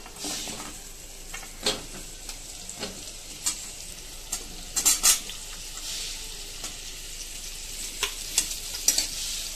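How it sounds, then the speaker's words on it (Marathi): Onion fries in a little hot oil in a kadhai with a steady sizzle, while a spatula scrapes and taps against the metal at irregular intervals. "आता इथे तेल तापायला ठेवलं आहे कढईमध्ये थोडंसं, त्याच्यामध्ये आपण आता कांदा परतून घेऊया"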